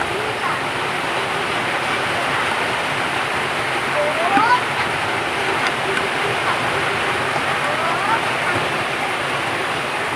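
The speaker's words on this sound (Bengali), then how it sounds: "ওদিকে একটা পাত্রে আমি বাকি উপকরণগুলো ভেজে নিচ্ছি" Remaining ingredients for a bottle gourd leaf and pressed dried fish bharta fry in a pan, giving a steady, even sizzling hiss throughout with a few faint brief tones over it.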